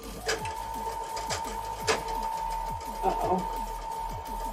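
A sewing machine stitches quilt blocks in steady running bursts with short pauses, a low motor hum beneath the rapid needle rhythm, while a person talks briefly over it.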